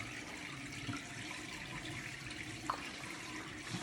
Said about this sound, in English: I go ahead and rinse my razor